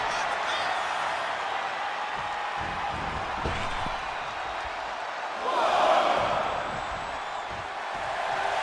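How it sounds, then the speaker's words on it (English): Wrestling arena crowd cheering in the WWE 2K24 video game, a steady roar of distant spectators that swells louder around the middle and near the end, without talk. "The sound of this crowd is deafening, and he's asking for more."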